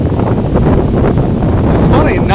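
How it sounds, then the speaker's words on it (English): Strong Hurricane Irma wind gusts roar in Jacksonville, Florida, with heavy buffeting against the microphone throughout and a brief whistling or squeal near the end. "The wind gusts are pretty high."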